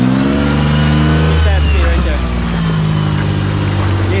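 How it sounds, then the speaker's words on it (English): Rock crawling buggy engine revving up close as gas is applied on a rainy trail, a loud rising and falling engine roar with people talking over it. "Give it a little bit of gas."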